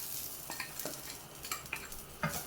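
Roasted semolina and grated coconut for rava ladoo are stirred in a pan, giving repeated scraping strokes of a spoon against the metal over a soft continuous sizzle, close and steady with no talking.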